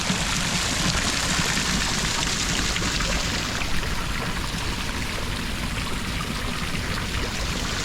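Water from the Children's Fountain in downtown Clarksville, Tennessee, spouting from sculpted baby heads, makes a continuous dense splash and patter, steady and fairly loud with no pauses. No voices.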